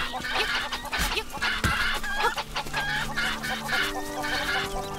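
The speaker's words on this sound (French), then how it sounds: "J'ai énervé les poules." Agitated cuccos from Zelda: Link's Awakening cluck and squawk in rapid overlapping bursts, loud and busy throughout, with game music running underneath.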